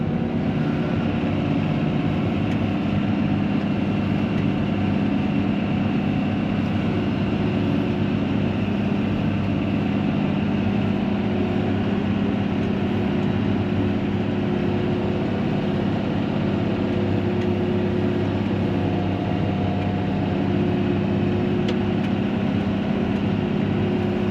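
A tractor drones steadily while pulling a Pottinger Synkro cultivator through a field for min-till seedbed work, a constant loud low engine hum with no talk over it.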